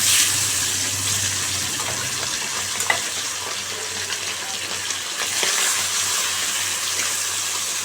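Pomfret fish sizzling steadily in hot oil in a pan, a continuous close frying hiss with occasional crackles and pops throughout, no talking.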